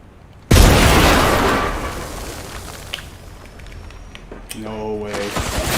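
A frag grenade explodes in a video game, a sudden loud boom that decays slowly into rumble, followed by a tonal game effect near the end.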